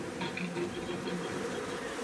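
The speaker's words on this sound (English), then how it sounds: "You have to take care of your bees." Honey bees buzz softly and continuously near a hive during feeding, a faint steady drone with slight wavering pitch and no voices.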